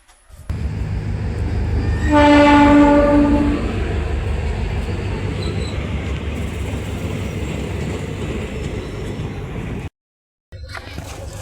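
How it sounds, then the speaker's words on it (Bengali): A passenger train on the Ledo to Murkongselek line in Upper Assam pulls into Silapathar station, its horn blaring loudly for over a second amid a steady rumble of wheels and cars that carries on until near the end. "ফাইনালি আমাদের ট্রেন এসে গিয়েছে"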